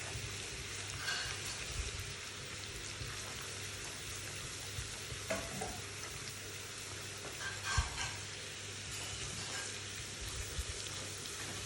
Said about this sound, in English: the ginger goes in, and we're going to just allow this ginger to flavor the ghee